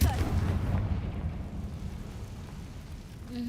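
A Confringo fire spell explodes in the video game Hogwarts Legacy: a loud booming burst at the start that rolls off into a long rumbling decay, with a short tonal effect at the end.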